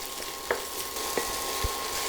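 Red onion sautéing in a pan for pepper chicken, a steady close sizzle with a few soft spoon taps and knocks scattered through it, no voices.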